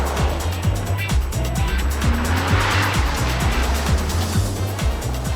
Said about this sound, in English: But sliding around on the loose isn't the trump card.